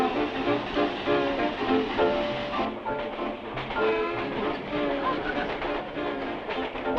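A train rumbles and clatters steadily nearby on a spur line, its dense mechanical roar continuing throughout with rhythmic knocking in the second half.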